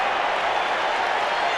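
A dense, roaring stadium crowd of over 42,000 fans cheering for the Dallas Cowboys during a 1990 NFL game against the Chargers, a steady wall of noise with no gaps.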